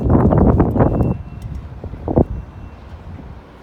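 Wind gusting at a rooftop wind direction and speed sensor installation, buffeting the microphone with a loud rumbling rush for about a second, then easing to a softer steady blow with a brief knock.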